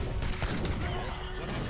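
Cannon fire in the strategy game Age of Empires III Definitive Edition during a battle, a quick volley of sharp booms and cracks in a short burst, with talk underneath.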